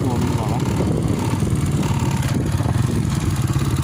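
Modified Honda Wave Z motorcycle with a 53 cam revving on a test, a steady rough mid-pitched engine drone close by, with people talking over it throughout.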